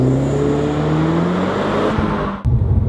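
Audi TT MK1 driving on a mountain road, a steady loud engine drone with rising tone as it accelerates, then a brief dip and rougher low rumble near the end.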